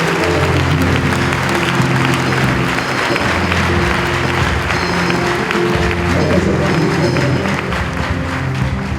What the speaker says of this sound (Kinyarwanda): Ndagira ngo tumukomere amashyi menshi.